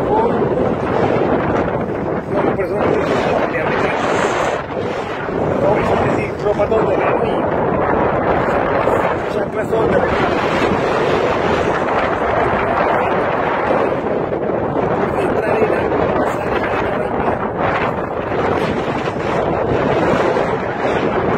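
Strong, hot wind roars across the sand dunes at Punta Gallinas in La Guajira, a loud continuous buffeting that batters the microphone throughout with no clear pauses.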